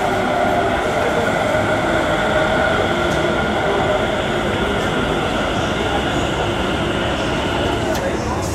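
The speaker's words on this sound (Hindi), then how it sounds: "underground metro" A Delhi Metro underground train at Majlis Park rumbles steadily and loudly, with a constant roar of wheels and motors and occasional faint squeals and clicks.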